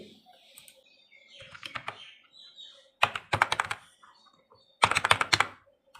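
Close clicking keystrokes on a computer keyboard come in three quick bursts as a voter card number is entered into an online form, separated by short pauses, with no talk.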